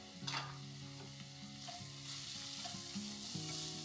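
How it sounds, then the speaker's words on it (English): Sausage sizzles and fries in a pan for fried rice, with a spatula stirring and scraping through it in steady strokes; a close, continuous crackle with no talking. "Couple minutes, 2-3 minutes for the sausage to cook."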